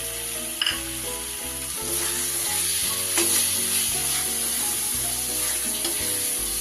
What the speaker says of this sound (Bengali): পরপর স্টেপ বাই স্টেপ মশলাগুলো এইভাবে দিয়ে কষাতে হবে